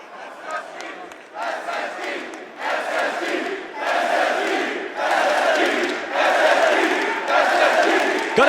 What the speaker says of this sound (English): hearing a team that's been eliminated, chanted in the crowd